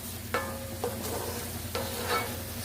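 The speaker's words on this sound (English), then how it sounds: "stir in flour and cook for about a minute" Flour being stirred into a hot pan for mushroom-onion gravy with steak tips, a soft sizzle with a few distinct spoon scrapes at irregular intervals over a low steady hum, no voices.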